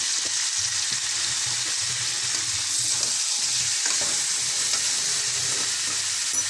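Potatoes sizzle and fry steadily in a hot pan, a constant crackling hiss with faint stirring scrapes, close and alone with no talk.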